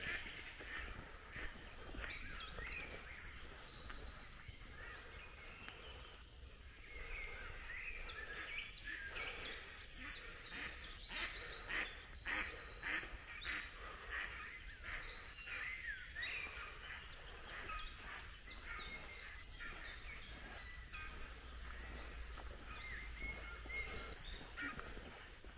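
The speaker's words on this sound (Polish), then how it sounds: "posłuchać, co to za ptaki są, bo nie ukrywam, że niektóre głosy są w ogóle dla mnie nierozpoznawalne" Assorted wild birds call at the Milicz fishponds, a dense, steady chorus of high chirps and calls with faint hoofbeat-like knocks underneath, heard at a distance with no voices throughout.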